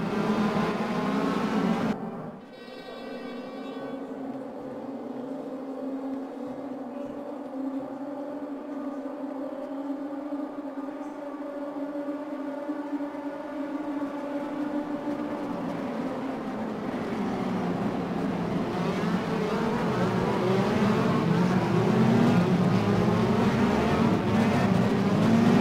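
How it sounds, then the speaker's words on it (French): Loud DTM 2016 race car engines in the video game RaceRoom roar and rev continuously, rising and falling in pitch as cars pass, with the noise building toward the end. "profiter un petit peu du son aussi en extérieur de ces voitures qui est assez pétaradant"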